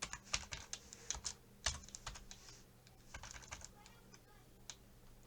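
Quick bursts of typing on a computer keyboard nearby, irregular clusters of key clicks with short pauses, quiet and close.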